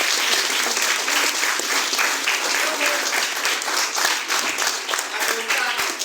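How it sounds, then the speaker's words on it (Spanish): An audience claps loudly and steadily for a model at a school event, dense applause carrying on unbroken throughout. "Ahora sí le damos un fuerte aplauso a nuestro modelo."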